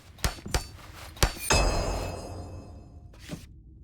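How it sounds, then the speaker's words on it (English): Hammer strikes repair a damaged roof in the Lord of the Rings: Return to Moria video game: three sharp metallic taps, then a heavier crashing impact with a ringing, crumbling tail and one last faint knock. "I never bothered to come up here and hammer things"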